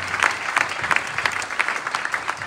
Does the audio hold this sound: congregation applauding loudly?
yes